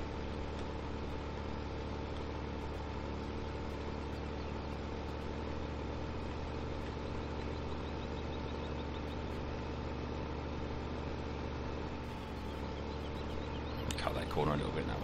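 Steady low tractor engines idling and droning in Farming Simulator 15, a continuous mechanical hum with no talk, a brief clatter near the end.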